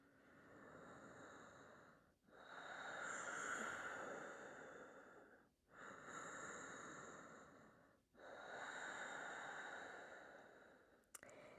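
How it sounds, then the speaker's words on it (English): Slow ujjayi breathing through a constricted throat, four long ocean-like breaths with short pauses between them, soft and close with a hissing, airy rasp. "Gently constrict the back of the throat so that your breath begins to create the ocean-like sound you just heard in mine."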